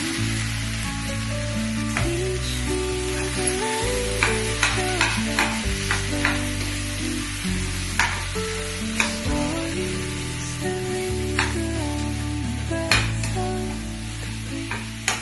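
Potato curry frying in a pan, a continuous sizzle with a spatula stirring and scraping at irregular moments, close and steady with music playing underneath.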